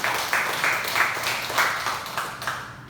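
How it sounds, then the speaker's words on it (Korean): A church congregation claps in thanks during a Sunday worship service, a loud, steady burst of many hands with a few sharper individual claps standing out, fading toward the end. "우리 감사 박수 한번 하겠습니다"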